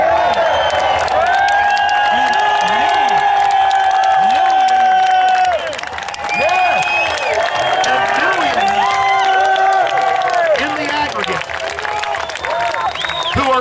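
A large outdoor crowd of thousands at the Bilderberg 2013 gathering, cheering, whooping and applauding continuously at high volume, with dense layered voices and overlapping shouts throughout.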